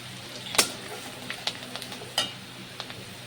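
Green chilli and turmeric going into hot oil left from frying kochur loti, giving a soft, steady sizzle broken by a few sharp clicks of a spoon against the pan.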